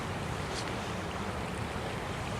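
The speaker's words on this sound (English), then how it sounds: "that's the water just going by pretty swiftly because the river is faster here" Swift river water rushes past at night on the Humber River in Toronto, a steady broadband wash with wind buffeting the microphone, continuous and close, with no voices.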